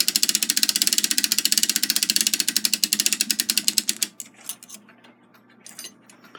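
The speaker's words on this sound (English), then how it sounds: "wind it up until the spring is small enough that we can fit the clamp over it" A ratchet winder turns a clock mainspring during a Takeda short drop octagon clock rebuild, making loud, close, rapid regular clicks for about four seconds. The clicks then slow into a few scattered, fainter ticks.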